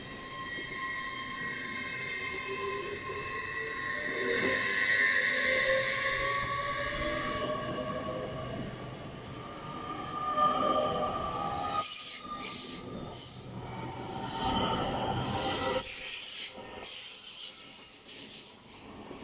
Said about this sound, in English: LNER additional stopping service 800 101